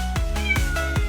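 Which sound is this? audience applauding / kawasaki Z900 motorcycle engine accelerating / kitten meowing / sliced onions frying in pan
kitten meowing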